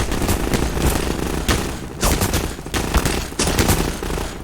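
Enemy gunfire in Half-Life: Lost Coast, loud rapid bursts of shots with sharp repeated cracks that come in clusters and keep firing through the whole stretch, with no talking.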